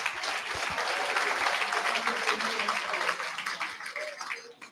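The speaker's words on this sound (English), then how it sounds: "Can we give them a round of applause?" Sustained audience applause and cheering for guests at a school career-coaching event, a dense wash of clapping that holds steady for several seconds before tapering slightly at the end.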